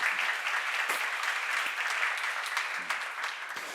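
Steady applause from a seated audience fills a church seminar hall, continuous clapping of many hands at moderate distance with no talk over it.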